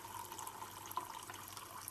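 Water is poured steadily into a glass, a continuous faint splashing fill with no voices.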